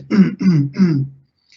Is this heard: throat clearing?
yes